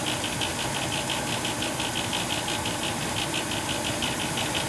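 An old gas furnace runs loudly at night, giving a constant roaring drone with a steady, fast, rhythmic knocking pulse repeating throughout, with no voices.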